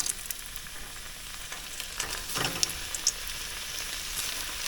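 Walleye fillets coated and dropped into smoking-hot oil over a wilderness campfire setting in northern Canada, giving a steady, close crackling sizzle with scattered sharp pops throughout.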